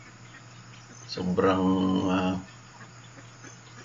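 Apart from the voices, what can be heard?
geese on a farm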